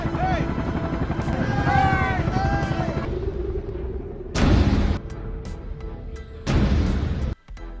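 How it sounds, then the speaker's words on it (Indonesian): A helicopter's rotor chop drones steadily behind a voice narrating a zombie film, with sharper bursts of noise cutting in partway through. "muncul sebuah helikopter yang melintas di sana"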